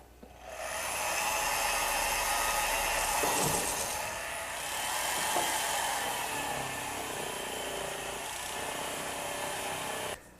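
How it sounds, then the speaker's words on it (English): A small buffing wheel spun by a power tool polishes guitar lacquer with medium compound, a steady, close whirring hum with a soft rubbing hiss that runs for about ten seconds before cutting off. "These small buffing wheels come in quite a variety of sizes and shapes"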